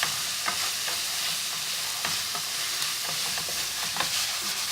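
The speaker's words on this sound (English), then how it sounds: "I've just got about a generous pinch of garam masala there. Going to give that a stir." Okra bhindi bhaji sizzling steadily in a pan with garam masala, a spoon stirring and scraping through the frying vegetables in short repeated strokes, close and continuous with no talk.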